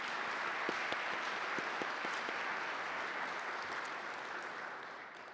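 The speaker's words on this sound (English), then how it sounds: "please let's give them another round of applause" Faint, distant audience applause at a community summit, a steady patter of many hands with a few sharper individual claps early on, gradually thinning toward the end.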